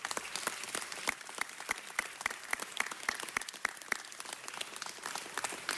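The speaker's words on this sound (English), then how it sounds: "Let's give them all a round of applause." Sustained applause fills a Los Angeles City Council meeting chamber, a dense crowd clapping steadily and evenly from start to end without any speech.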